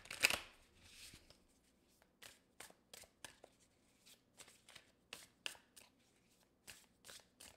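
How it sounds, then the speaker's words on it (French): A Light Seers tarot deck is shuffled and a card drawn, giving a quick flutter followed by a run of soft, rhythmic card riffles and taps, close and quiet. "Je vais aller chercher une carte d'ici, des Light Seers."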